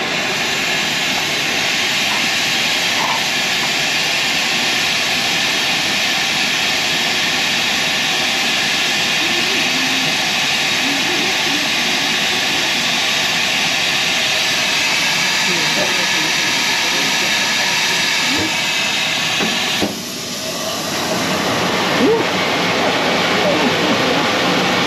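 A steam-powered form finisher presses jackets in a cruise ship laundry aboard the Norwegian Star, giving a loud, steady roar of blowing steam and air that holds for about twenty seconds, then briefly dips and resumes amid machinery hum and faint talk.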